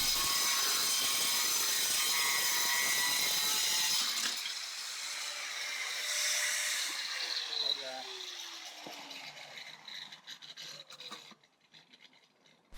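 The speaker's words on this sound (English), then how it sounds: "the gentle sawing motion is just to help clear the dust from the blade a little bit better" A slate saw blade is drawn by hand through a roofing slate in gentle back-and-forth strokes, giving a dry, gritty rasp that is loud at first and then turns quieter and more uneven as the cut finishes.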